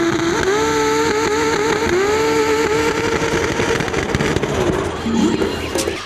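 Prepared 1990s off-road SUVs with tuned engines roar loudly in a sustained, rising drone as they climb a sand dune in competition, engine pitch sweeping and wavering throughout.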